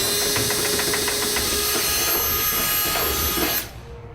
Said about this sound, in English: we'll just clean these up a little bit with our 1/2-inch step bit